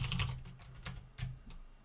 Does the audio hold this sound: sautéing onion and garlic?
no